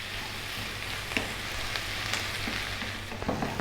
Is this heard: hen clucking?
no